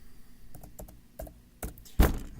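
Sparse keyboard typing: a few soft clicks, then a louder thunk near the end, close and quiet with no talk.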